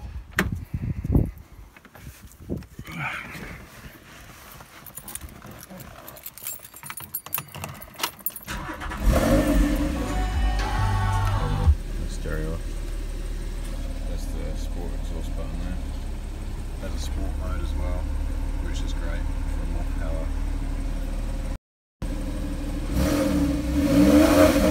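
A white Porsche 911 997.2 GTS cabriolet with a 408-horsepower engine, heard first as keys and shuffling, then the engine firing loudly and settling into a steady, close idle with a brief break and a final rev.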